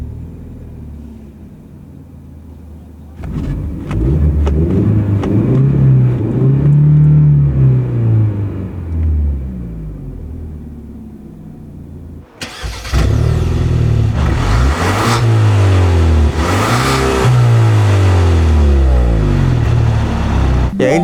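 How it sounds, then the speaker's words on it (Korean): Cabin engine sound of a 2020 Kia Stinger 2.0 four-cylinder rear-wheel-drive car accelerating, heard from inside: a steady loud rumble rising in pitch through gears, with a second stronger acceleration run after a brief dip. "실내에서 들리는 엔진 사운드가 굉장히 좋습니다"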